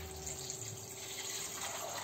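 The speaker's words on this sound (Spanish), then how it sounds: "Vamos a cubrir con agua." Cold water runs into a cooking pot of beans and chickpeas with chorizo, a steady faint pouring wash with no talking.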